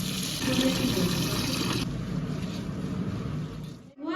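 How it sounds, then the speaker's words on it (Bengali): Rice being rinsed in water, with a steady wet splashing and pouring of water close by that eases off partway through and then stops abruptly near the end. "এখন চালটা ভালো করে ধুয়ে নেবো"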